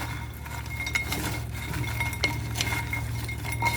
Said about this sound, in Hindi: थोड़ा सा चाट मसाला, नींबू, लाल मिर्ची पाउडर, ये चीज़ें हमने इसमें डाली हैं और इनको मिक्स कर देंगे।